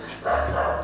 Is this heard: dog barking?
yes